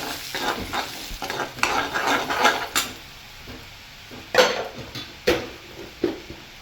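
Curry leaves and spicy chili fry in hot oil, sizzling steadily while a spoon stirs and scrapes the pan with intermittent sharper knocks, close up and without speech.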